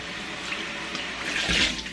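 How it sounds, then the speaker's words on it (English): Running water from a tap splashes into a bowl, a steady broadband rush that swells louder briefly near the end. "I'm going to rinse this bowl"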